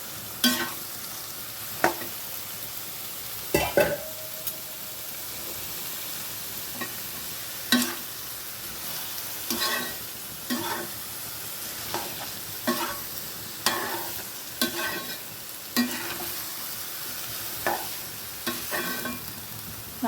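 Mango pickle being stirred with salt in a frying pan, giving repeated sharp scraping clacks of a spoon against the pan every second or two over a soft, steady sizzle, with no talking.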